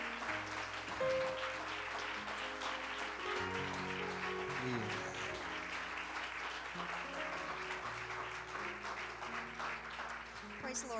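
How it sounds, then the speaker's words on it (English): A church congregation applauds Sister Ellis during a service in Peoria, a sustained wash of clapping over soft organ chords that runs throughout, fairly distant and even. "Would you give this wonderful lady a hand clap of appreciation?"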